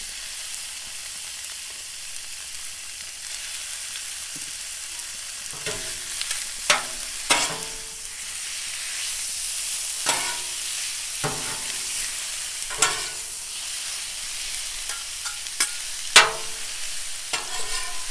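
Thin-sliced steak sizzles on a Blackstone griddle for Philly cheesesteaks, a steady close frying hiss broken by repeated scraping and stirring strokes of a spatula.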